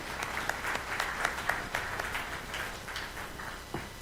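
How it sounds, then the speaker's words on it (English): Audience applause at a conference on worker cooperatives and youth employment in Africa, a steady patter of many hands clapping at moderate volume for about four seconds with a few sharper individual claps standing out. "You may give me a clap."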